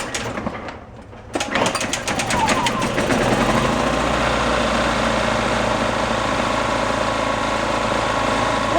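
A yard-sale Ryobi generator is primed with fuel down the plug hole, sputters briefly, then catches and settles into a loud, steady running engine drone that keeps going to the end, heard up close.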